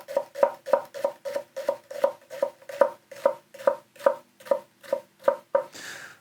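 A Hatsukokoro Kurouchi Birch kitchen knife chops through an onion on a board: about twenty crisp, evenly spaced thunks in a quick steady rhythm, close up and alone, ending with a brief rustle.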